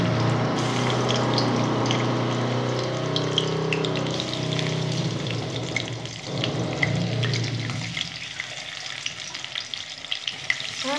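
Boroli fish fry in well-heated oil with a loud, close, continuous sizzle and crackle that gradually settles and thins toward the end.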